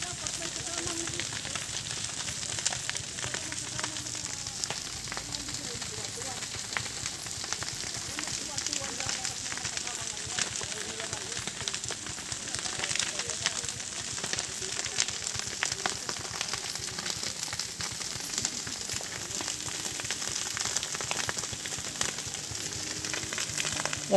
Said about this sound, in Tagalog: Grabe ang sunog po.